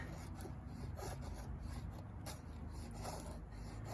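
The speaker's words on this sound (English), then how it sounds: "And just while I'm feather sticking here" A KA-BAR 1233 skinning knife carves feather sticks from red oak hardwood, making close, repeated scraping and rasping shaves in a dense, uneven rhythm over a low background rumble.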